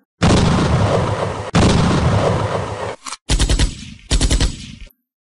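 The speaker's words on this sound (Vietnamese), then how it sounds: "Tiếng đại bác và đại liên của xe đầu dệt thảm lửa vào mục tiêu địch." Tank cannon and heavy machine gun fire in a battle, loud bursts of rapid automatic shots with a heavy boom, broken into several short volleys close by.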